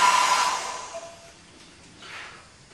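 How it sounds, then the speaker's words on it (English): An ordinary hairdryer on a high heat setting dries a polymer plate negative, blowing a loud, breathy whoosh for about half a second before it fades away to near quiet. "And now we dry it with a hairdryer."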